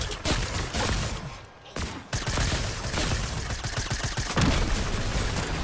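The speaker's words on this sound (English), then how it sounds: "Who's shooting? Somebody over here." Gunfire in Fortnite rattles in dense, rapid bursts of loud cracks and pops, nearly continuous with a short lull in the middle, amid other in-game noise.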